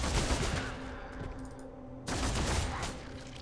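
Rapid gunfire from the Warhammer 40,000: Deathwatch video game, a dense, continuous rattle of shots and impacts layered over a steady background hum, with a brief dip in intensity before the barrage returns at full strength.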